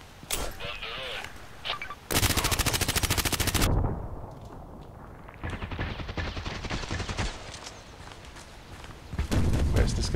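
Rapid full-auto bursts from a Glock 18 pistol in the Contract Wars shooter game, loud, close crackling volleys separated by short pauses, with someone talking between them.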